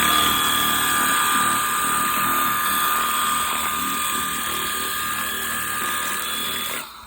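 A Stihl pressure washer sprays a lawnmower clean, giving a loud, continuous high whine with a steady hiss that holds for several seconds before cutting off abruptly.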